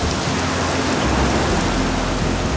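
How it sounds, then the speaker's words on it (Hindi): Steady rain pours down in a dense, constant hiss that fills the scene without letup, with no voices over it. "ये बारिश कैसे शुरू हो गई?"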